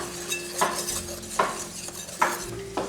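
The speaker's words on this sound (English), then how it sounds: "We'll whisk all of that together." Baking powder and salt for pancake batter are whisked in a bowl, with several rhythmic scraping strokes and light clinks of metal against the bowl, close up and alone.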